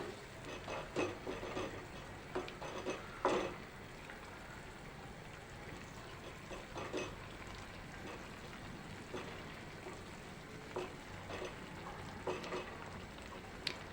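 Rotlo pieces being stirred in a tempering pan for Kathiyawadi vagharelo rotlo, with a soft steady sizzle and intermittent scraping stir strokes close by.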